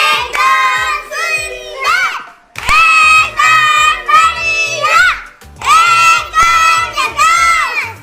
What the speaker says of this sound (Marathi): तिच्यासाठी जोरदार टाळ्या झाल्या पाहिजेत